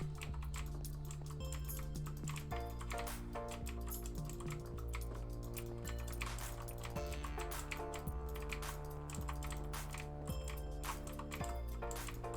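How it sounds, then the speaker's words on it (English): Mechanical keyboard typing, a steady patter of close key clicks running throughout, heard under a continuous bed of game background music. "Sweeney says, hashtag heart key mechanical keyboard sounds"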